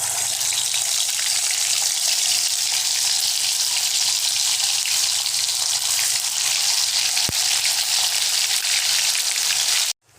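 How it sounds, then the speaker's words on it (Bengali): Coconut and rice flour fritters with turmeric and green chilli fry in hot oil, making a loud, steady, hissing sizzle that runs unbroken before cutting off abruptly. "একটা একটা করে বড়ার আকারে ভেজে নেব।"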